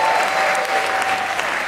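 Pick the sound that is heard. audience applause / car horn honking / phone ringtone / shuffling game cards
audience applause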